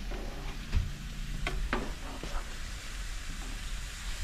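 A garlic and chile mixture is stirred in a pan, with a soft steady sizzle under a few sharp scraping clicks and knocks of the utensil near the start, then a quieter continuous hiss.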